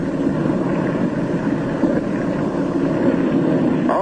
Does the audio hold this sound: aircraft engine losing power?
yes